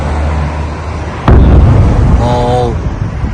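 An intercepted missile explodes in the sky as a single sudden, loud bang that rolls into a rumbling aftermath, with people talking before and after the blast.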